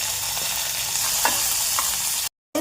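Chopped onion and green chilli fry in hot oil in a pressure cooker, a loud continuous sizzle close up with a few scraping stirs, cutting out briefly near the end.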